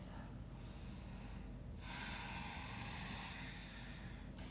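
A deep breath during a yoga squat hip-opening pose, a quiet drawn-out inhale followed by a longer, fuller airy exhale close to the microphone, no talking.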